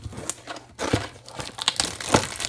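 A Pokémon card booster box is opened up close: crinkling and tearing of wrapping in irregular bursts, with sharp crisp rustles and a few louder rips.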